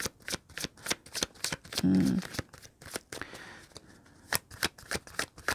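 A tarot deck shuffled by hand before drawing another card: crisp, papery riffles and flicks arrive in quick irregular bursts, close-up, with one brief louder rustle partway through.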